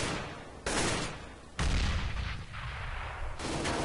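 Sustained gunfire in Counter-Strike: Global Offensive arrives in loud, harsh bursts of dense rapid shots with abrupt starts and stops, booming and continuous across the clip.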